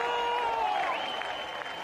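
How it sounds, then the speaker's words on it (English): A home crowd applauds steadily at the 2018 World Para Athletics European Championships after a shot put effort, producing a sustained wash of clapping from a large stadium audience. "The home crowd enjoying his efforts."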